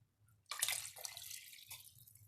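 Liquid, about 2 cups of broth, poured into a cooking mixture, a short splashy gush that starts abruptly and tapers into a steady trickling flow.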